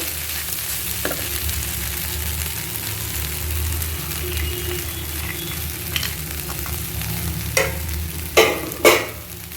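Poha upma being stirred in a hot pan, a low steady sizzle with a few sharp scraping clicks of the spoon toward the end, no speech.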